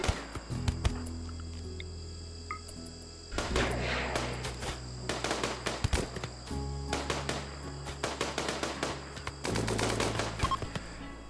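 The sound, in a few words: gunfire in a firefight, from the video game RimWorld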